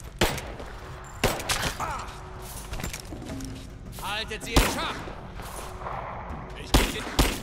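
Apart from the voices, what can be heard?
gunfire in a firefight in the video game Rise of the Tomb Raider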